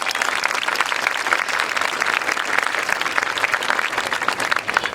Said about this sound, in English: Please join me in a round of applause for these outstanding educators